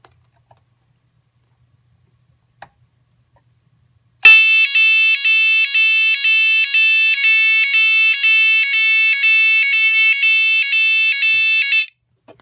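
A Type 4 230V fire alarm sounder on a SAVE4 panel, set off by a simulated manual call point during a test, blares a loud, pulsing electronic tone for about eight seconds after a few faint clicks.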